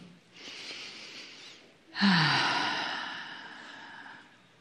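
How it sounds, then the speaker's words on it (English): A guided meditation breath: a soft inhale followed by a louder, longer exhale like a deep sigh, close and breathy, with no words spoken. "Take a breath in."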